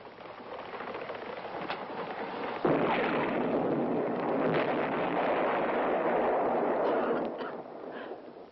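A deep, rumbling blast inside a cave roars up suddenly and sustains as a heavy, noisy boom that slowly fades, loud and close, with no talking.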